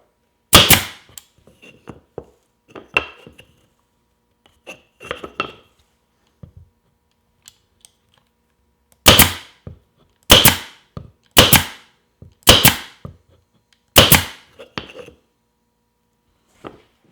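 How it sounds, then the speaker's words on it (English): A Cadex 23 gauge pin nailer fires one-inch brads into a piece of maple, a series of sharp, loud pneumatic snaps. A few quieter scattered clicks come first, then six evenly spaced shots near the end, with no voices. "I've got inch-long brads in the nail gun, and here we go."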